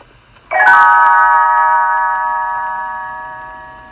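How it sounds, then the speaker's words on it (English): After a moment of quiet, a small bell chime strikes once and its bright, ringing tone lingers and slowly fades. "Tinker Bell rings her little bells like this"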